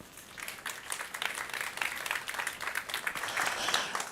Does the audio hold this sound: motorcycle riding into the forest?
no